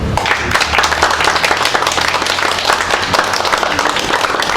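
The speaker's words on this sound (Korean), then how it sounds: "박수 한번 주시죠." Crowd applause at a Korean election campaign office opening ringing loud and dense, with a low hum beneath the clapping.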